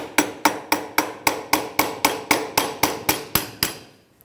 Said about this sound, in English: I'm going to use a pry bar and just gently tap it because it's pretty rusty